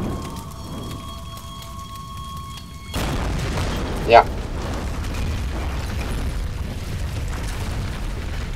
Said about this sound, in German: Jetzt wird da gleich hinten was explodieren